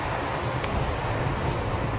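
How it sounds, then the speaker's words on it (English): Steady, blustery wind roars outdoors at a roadside bus shelter, with a continuous rumbling buffet against the microphone throughout. "And it's windy as heck"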